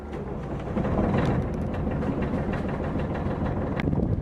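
A diesel engine on a Beneteau 361 Clipper sailboat, started after its glow plug is used, runs with a rough, close, rhythmic chugging that stays steady throughout.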